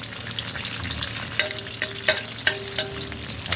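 Egg setting in a hot pan with papaya, crackling in a busy close sizzle, with several sharp scrapes and taps as it is stirred.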